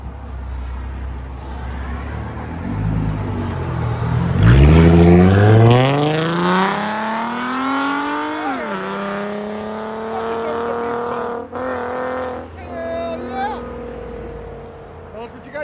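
A 2017 Ford Mustang 3.7L V6 with a true dual straight pipe exhaust revs hard, climbing in rising sweeps then falling back to a loud, rumbling idle, with a second shorter rev near the end.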